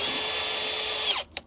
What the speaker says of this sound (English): I'm gonna start the drill at a straight 90-degree angle